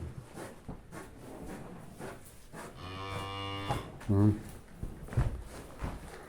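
Close by on a village farm, a cow calling for her calf gives one sustained moo mid-clip, then a short, sharp second bellow, over faint talk and scattered knocks and shuffling.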